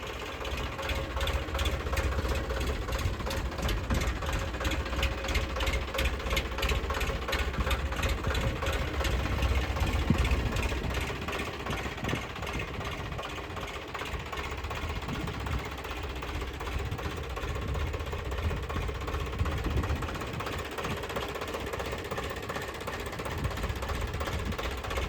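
A 2022-model four-wheel-drive tractor engine idles steadily and evenly for a long stretch, a continuous close mechanical rumble with a fine rapid knock and no talking.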